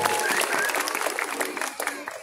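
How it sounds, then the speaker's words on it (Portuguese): A crowd at an adult cosplay contest during a Bon Odori festival in São Bernardo do Campo applauds a contestant dressed as Chun-Li, steady dense clapping throughout with a voice talking over it. "salva de palmas para Adriana Akatuka"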